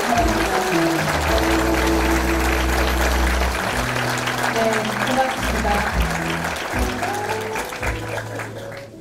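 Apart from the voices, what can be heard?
audience applause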